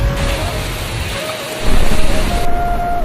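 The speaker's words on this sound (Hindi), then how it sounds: "आसमान में बिजली कड़कने लगी और तेज हवाएं चलने लगीं।" A village thunderstorm with heavy rain and rumbling thunder, steady and loud throughout, swelling stronger in the later part, with no voices.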